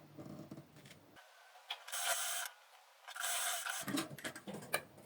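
Sewing machine gently stitching pinned chiffon fabric for a V-neck top with a side cowl, heard in two bursts of mechanical whirring separated by a short pause, fairly close, with no talk.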